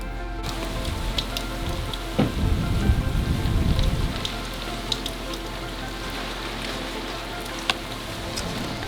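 Rain from the first bands of Hurricane Ian patters steadily on a hard surface aboard a docked boat, scattered drops tapping close by, and a brief heavier rumble swells partway through.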